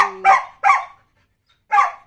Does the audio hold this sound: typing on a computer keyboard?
no